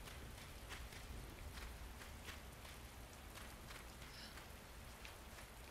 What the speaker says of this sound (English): Good luck wiping off all that rain there, Claire.